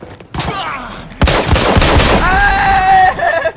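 Rapid gunfire bursts from the Arena Breakout shooter game, loud and close, with a dense volley of shots followed by ringing echoes and fading tails.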